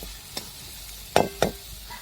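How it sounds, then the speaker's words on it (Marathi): Chopped onion frying in a pan as a spoon stirs it, giving a soft continuous sizzle with a few short scraping clinks of the utensil against the metal. "चांगला लाल कांदा परतून द्यायचा"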